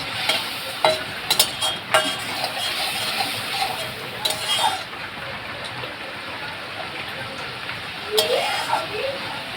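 Shrimp and bottle gourd curry frying in a pan, a steady close sizzle with occasional scraping stir strokes and light clinks, with no talk over it.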